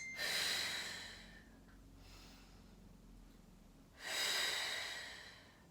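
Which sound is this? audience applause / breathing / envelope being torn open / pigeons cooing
breathing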